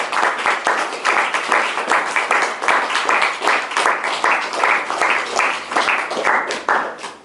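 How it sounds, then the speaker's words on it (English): A room full of people applauds the full-time office team, dense steady clapping, loud and close, sustained throughout with no break. "these guys deserve a round of applause for putting the time in and making this happen"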